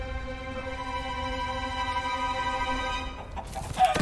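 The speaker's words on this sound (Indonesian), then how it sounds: "It's just a chicken." A chicken in Minecraft Story Mode clucks over a steady bed of sustained game music tones, with a sharper burst of clucking near the end.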